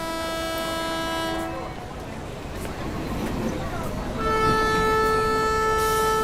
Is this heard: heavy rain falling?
no